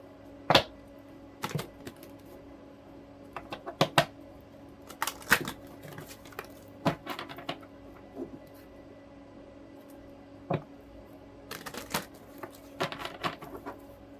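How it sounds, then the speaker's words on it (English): Deck of oracle cards shuffled by hand in short bursts of crisp riffling and flicking, scattered across the clip with quiet gaps between, close and fairly soft with no talking. "Y'all saw me try to shuffle the other deck."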